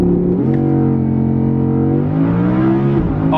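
Sports car making a launch-control run, its engine held at a loud, close, steady pitch before rising sharply as it accelerates, with a clear upshift near the end.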